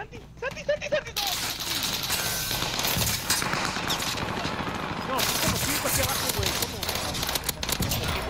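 Dense, rapid bursts of rifle gunfire in the Warzone video game, with three-round bursts firing continuously under excited talking from players.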